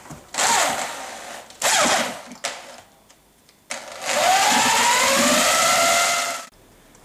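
A power mixer churns plaster in a bucket with loud whirring bursts: two short runs, a brief blip, then a long steady spin that winds down, separated by quiet gaps.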